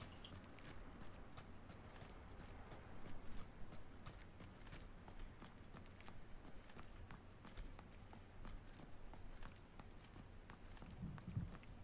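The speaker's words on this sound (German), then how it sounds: "Sie sind noch drin, ich höre die Schritte." Player footsteps tread inside a house in PUBG (PlayerUnknown's Battlegrounds), faint and muffled, as if from a floor above. The soft, regular steps continue throughout at low volume with no speech.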